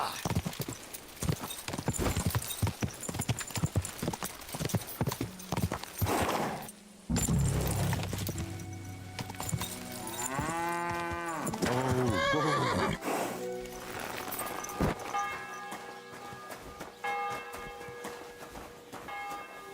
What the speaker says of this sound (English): Fancy horse.